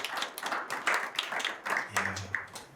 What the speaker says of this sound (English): Please, a big round of applause for the panelists.